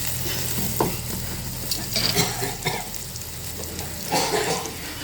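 Asafoetida hits hot oil for a dhaba-style dal tadka, giving a continuous close sizzle with several sharper stirring scrapes and splutters, no voices.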